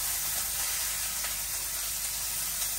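Chopped onion and bay leaf sizzling in hot oil in a pan, a steady, even frying hiss that holds without a break from start to finish.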